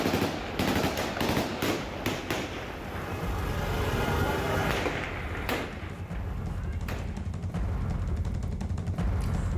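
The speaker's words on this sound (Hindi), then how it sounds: "उन पर तालिबान की तरफ से फायरिंग की" Gunfire from Taliban fighters at an Afghan protest march carrying a long national flag: a rapid, ragged string of sharp cracks and bursts over crowd noise and voices, loud and continuous for several seconds.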